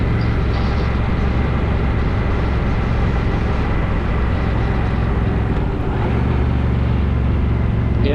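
A 2025 Honda Rebel 1100T motorcycle engine drones steadily while riding two-up, a loud continuous low rumble mixed with wind noise, with no talk over it.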